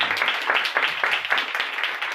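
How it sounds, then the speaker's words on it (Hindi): Loud applause from a church congregation in a Hindi-speaking Christian service, with dense rhythmic clapping pulsing steadily throughout and no voices heard over it. "आज की सारी बरकत के लिए जोरदार तालियां,"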